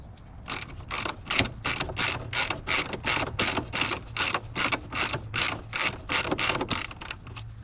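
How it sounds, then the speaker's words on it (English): An electric ratchet works on a rear suspension bolt with a rapid, even run of loud clicking bursts and a low motor whir underneath, close up, with no talking. "Let's get the electric ratchet in here"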